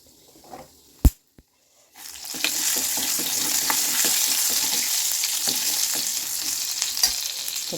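Garlic dropped into hot oil after mustard seeds, a couple of sharp clicks, then a sudden loud continuous sizzle that holds steady with small crackles and stirring scrapes.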